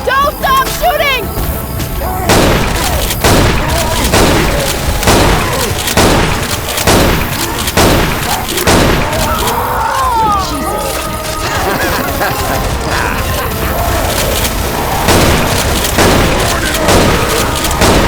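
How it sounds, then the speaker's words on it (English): Gunfire in the video game Left 4 Dead 2 on the Dark Carnival campaign: loud, rapid bursts of shots and booms repeat throughout, mixed with shouting voices and game effects. "Don't stop shooting!"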